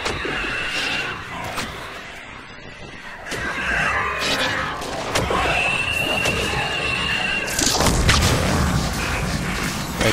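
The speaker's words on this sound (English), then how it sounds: "Right there, that was a good example of a biotic explosion." Combat in Mass Effect with a biotic explosion: a loud, crashing burst amid thumps and impacts, followed by further booming hits and rumbling, close and intense, with no talking.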